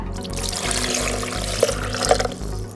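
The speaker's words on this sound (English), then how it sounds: "And right here we have 1 cup of regular water, which we're also gonna add." One cup of plain water pours into a blender jar in a home kitchen, making a continuous close trickling splash over a low steady hum.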